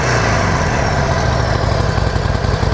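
A Harley-Davidson Sportster XL1200 Custom with a black powder-coated engine idles close by, a loud, steady, rumbling engine note that continues without a break.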